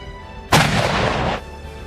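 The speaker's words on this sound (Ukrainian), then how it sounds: "Їхня зброя гаубиці, міномети і гармати" A single loud artillery blast from howitzer, mortar or cannon fire erupts suddenly, its roar sustained for about a second before cutting off into quiet background.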